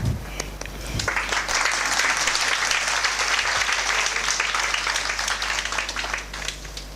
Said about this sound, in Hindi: एक दो हाथों ने ताली बजाई